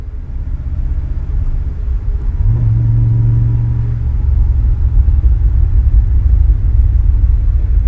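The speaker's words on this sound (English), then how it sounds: "Driving an Iso Grifo is a wonderful experience." An Iso Grifo sports car drives along with a loud, deep engine rumble, its pitch rising briefly as it pulls away, then settling into a steady roar that continues without any talk.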